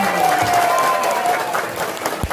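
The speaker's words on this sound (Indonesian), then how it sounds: "Boleh minta tepuk tangannya." Children applaud together at a talking-puppet show, a dense, steady patter of small hands that fills the whole moment, fairly close and loud, with a few voices mixed in.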